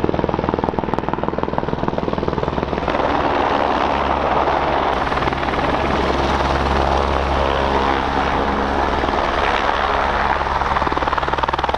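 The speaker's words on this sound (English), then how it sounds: "We just got a helicopter arriving." A helicopter arrives at a geological drill rig site, its rotor thrum loud and steady throughout, with broadband roar and no talking.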